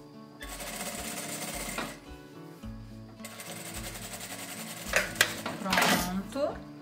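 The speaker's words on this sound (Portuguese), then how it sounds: "agora eu vou fazer a costurinha na parte de cima aqui, de fora a fora, com retrocesso no início e no final" Sewing machine stitching the top seam of a fabric oral-hygiene kit from edge to edge, with backstitching at start and end; loud rapid mechanical chatter in several bursts separated by brief pauses, up close.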